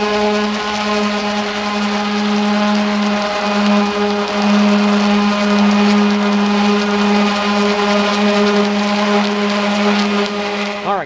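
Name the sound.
palm sander sanding a used boat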